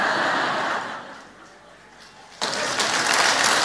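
An audience at a church sermon claps, a broad burst that fades to a lull and then swells again into loud applause.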